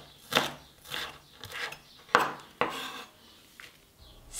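Salt and pepper grinders cranked over ingredients for a raw broad bean pesto with wild garlic, giving a series of dry ratcheting, crunching bursts, about seven short grinds at an uneven pace, close and fairly quiet.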